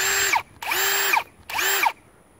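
Ryobi PSBHM01 hammer drill revving in three bursts of about a second each, a loud high motor whine that spins up and winds down, separated by short pauses, with no talk.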